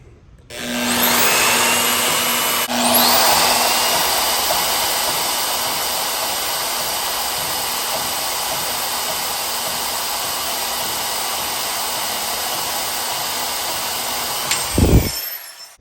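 A power tool cuts the flange off a metal Weber Dellorto dual-throat carburetor manifold in one long, continuous, steady grinding whine that starts abruptly, runs loud for about fourteen seconds and then stops.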